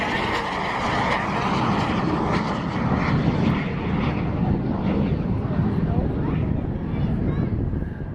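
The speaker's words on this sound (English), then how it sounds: "Second aircraft is on the takeoff roll right now. That, of course, is the beautiful F86 Sabre." An F-86 Sabre jet roars on its takeoff roll at an airshow, a loud continuous broadband rush with wind buffeting, while an announcer talks over it.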